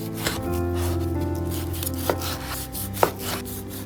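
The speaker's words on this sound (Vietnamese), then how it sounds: "Bây giờ mình thái thịt nhé." A knife slices pork into large chunks for Vietnamese braised pork with eggs, giving soft rubbing cuts with a couple of sharper taps on the board, all under steady background music.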